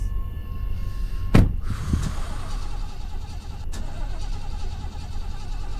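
A car engine cranking and failing to catch in a horror game, with sharp mechanical clunks and sputters over a constant low engine rumble.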